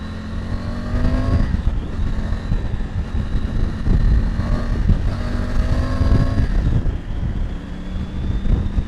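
A Triumph Tiger 900 Rally Pro adventure motorcycle engine under way, loud and close, its revs rising and falling through gear changes with strong wind rush over the rider's microphone.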